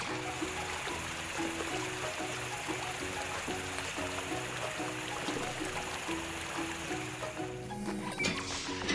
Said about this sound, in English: The water jet should soften up the gum a bit.